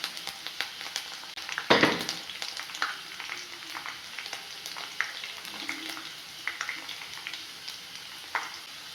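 Curry leaves frying in hot oil with garlic and ginger for sardine fish pickle: a close sizzle with scattered crackles and pops, plus one sharp louder burst early on and soft stirring sounds throughout.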